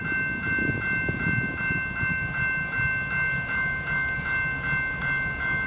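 A light CN locomotive rolls past steadily on the Halton Subdivision with rhythmic clicking of wheels over rail joints and a constant mechanical hum, fairly close.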